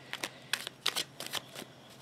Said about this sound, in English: I did a little bit of a pre-shuffle of these cards.